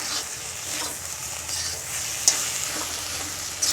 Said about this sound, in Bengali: শাক এখন এরকম চাড়া দিয়ে ভেজে নেব